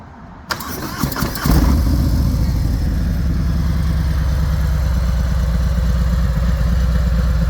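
A 2020 Harley-Davidson Fat Bob V-twin cranks briefly, catches and settles into a loud, steady, throaty idle close to the microphone, with no talking.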